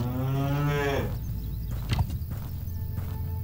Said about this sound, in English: Oh, there's a cow. Can I shoot this cow?